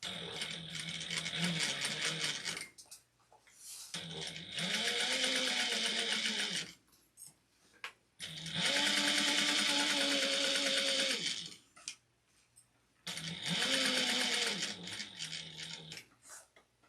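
A sewing machine stitches a satchel seam at about 1/8 inch in four steady, fairly quiet runs, each a whirring mechanical hum broken by brief stops.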